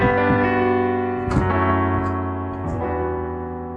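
Piano and guitar move through a ringing chord transition into the chorus, a few soft strikes over sustained harmonies, close with no talking.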